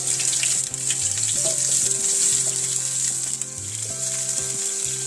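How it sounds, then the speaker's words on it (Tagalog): Onion and garlic sauté in a pan with a loud, continuous sizzle up close, alone without any talk. "Igisa muna tayo ng sibuyas. Tapos bawang."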